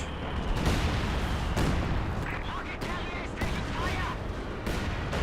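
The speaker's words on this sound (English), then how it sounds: "that's heavy mortar barrage" Heavy mortar barrage in the video game Company of Heroes 2: dense, continuous rumbling explosions and booms with scattered sharper blasts and crackling gunfire, a constant loud battlefield din throughout.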